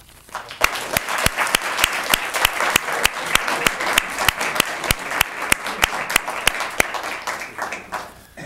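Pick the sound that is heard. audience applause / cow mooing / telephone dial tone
audience applause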